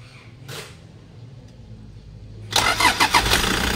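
A Toyota HiAce GL van engine cranks briefly and catches on the first try, settling into a loud, close idle with a few revving pulses after a quiet pause and an earlier short noise.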